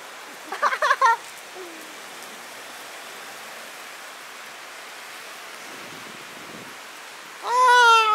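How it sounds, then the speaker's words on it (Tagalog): Sudden rain falling, a steady hiss of broadband noise throughout, with brief voices near the start and at the end. "Stranded kami kasi umulan bigla."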